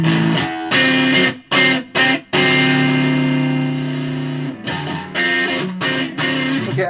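Heavily distorted electric guitar chords through an MXR FOD pedal ring out loud, first in short choppy bursts, then a long sustained crunchy chord before more stabs.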